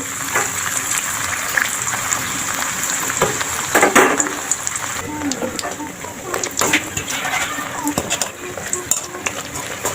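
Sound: luchi frying in a little hot oil

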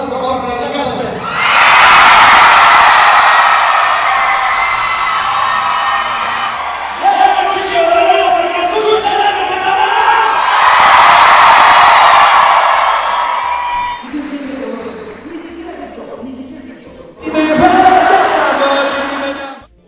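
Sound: audience applause and cheering

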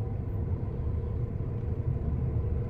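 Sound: car driving close past

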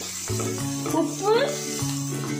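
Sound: onions sautéing with salt in a pan for drumstick-flower egg poriyal

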